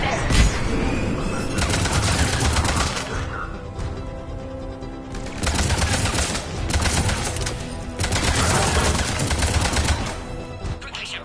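Gunfire from a firefight at a checkpoint in Mass Effect 3 comes in dense, loud bursts of rapid automatic shots, with brief lulls between volleys and ambient game sound underneath.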